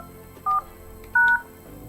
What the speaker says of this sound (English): And then I'll just dial the number that I parked it against.